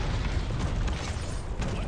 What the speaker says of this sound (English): So I'm going to use an airstrike. We're going to airstrike on this.